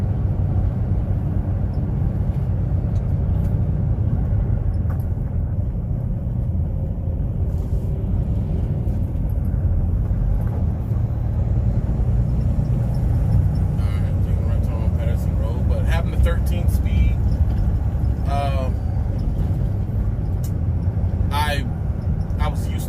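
A 13-speed semi truck drives and makes a turn, its engine a steady low rumble filling the cab throughout, with a few faint clicks and squeaks; someone talks over it.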